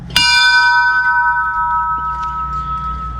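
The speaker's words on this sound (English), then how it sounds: "ring the bell when you complete the hole for the golfers behind" A golf course bell at Tobacco Road is struck once after finishing a blind hole, a loud, close, bright clang that rings on with a long, steady, fading tone.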